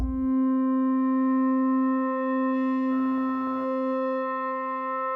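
A sustained, buzzy FM synth tone from a Korg Opsix, with feedback and pulse width adjusted on the main operator, rich in harmonics, holds steady, then briefly turns grainy and rough before settling back into its clean drone.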